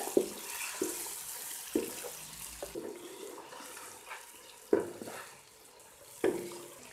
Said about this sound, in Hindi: अब इस ऑयल के अंदर हमने इसे भूनना है।